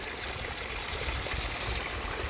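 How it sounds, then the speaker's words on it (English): A garden pond waterfall runs continuously beside a backyard garden railroad layout, a steady, close rushing and trickling of falling water with no pauses and no voices. "waterfall stays on 24/7"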